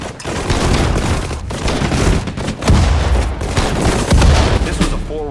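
Dense battle noise from the Sudden Strike 4 war game, set in the Pacific at Guadalcanal: rapid bursts of gunfire and heavy booming explosions overlap continuously and loudly, with shouted voices mixed in.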